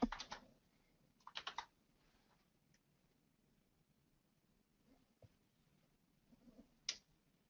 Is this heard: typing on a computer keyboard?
yes